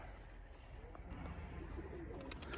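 A grizzled, crested female pigeon coos steadily at close range, with soft low murmuring throughout and some faint higher chirps near the end.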